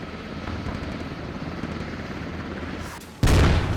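Enemy helicopter in the video game Squad, a constant rotor and engine drone filling the scene, with a sudden louder blast of gunfire or impact near the end.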